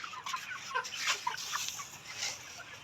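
Layer chickens cluck and call in a steady, busy chorus on a poultry farm, fairly faint, with overlapping bird noises throughout.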